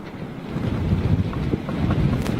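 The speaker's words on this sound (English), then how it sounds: "Wow, that wind is nuts" Strong wind roars steadily against the microphone, a close, continuous low buffeting rush with no speech.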